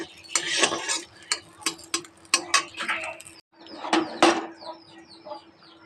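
A spoon scrapes and clatters against a cooking pan in repeated close strokes, with a brief pause midway, over a faint background sizzle and low hum; sounds come in bursts with no speech.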